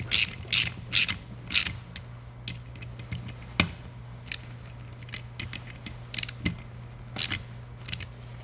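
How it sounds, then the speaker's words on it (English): A small inch-pound torque wrench ratchets on a heavy-duty Eaton Carter ground fueling nozzle, giving a run of crisp clicking bursts in uneven groups over a low steady hum, close by. "a small inch-pound torque wrench would suffice"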